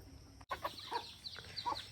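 Native chickens cluck softly nearby while coming to feed, in a quick series of short, scattered calls over faint background noise.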